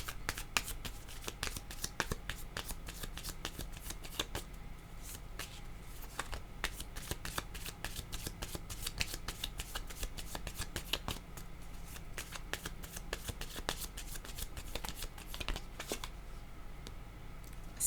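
Tarot cards are shuffled by hand in quick, steady riffling bursts, a dense crisp flutter that runs continuously throughout with no speech over it.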